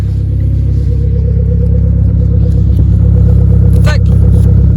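Renault Clio 4 RS with 200 hp and a stainless exhaust line revs loudly up close, a steady deep engine roar holding through the clip with a brief rising rev near the end while people talk under it.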